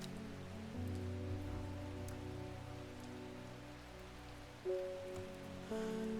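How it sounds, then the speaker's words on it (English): Steady rain patters across surfaces in the Undermere area of a cafe game, a continuous soft hiss that stays fairly quiet throughout under a layer of sustained musical tones. "Does it ever stop raining in Undermere?"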